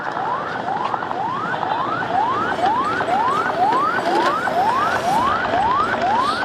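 Ambulance and police sirens wail in a fast, repeating rising sweep at a fire in Tondo, Manila, continuous and fairly close over street noise.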